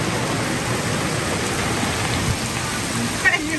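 Rain from a Florida squall falls steadily on a sailboat, a dense, even hiss with light patter that holds throughout, with a couple of louder knocks near the end.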